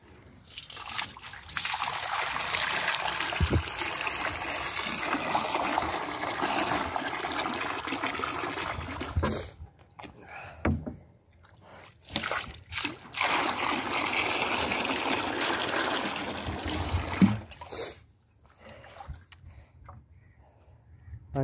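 Water pours steadily for calves to drink, a continuous splashing trickle that breaks off briefly twice before resuming, close and fairly loud with no talk.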